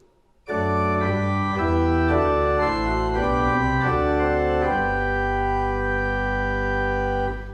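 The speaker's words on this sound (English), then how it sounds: "So that's what's called your principal chorus of the organ." Full pipe organ principal chorus with deep pedal bass beneath, chords shifting slowly then holding a long final chord, loud and sustained.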